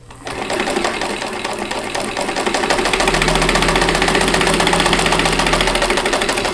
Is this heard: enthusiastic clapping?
no